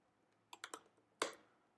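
Code being typed on a computer keyboard for an iOS drone app: three quick light key clicks, then a single louder keystroke after a short pause, close and clear in a quiet room.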